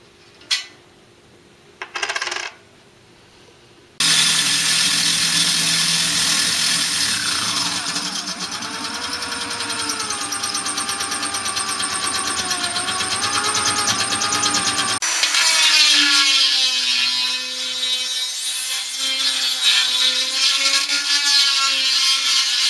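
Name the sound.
power drill drilling a hole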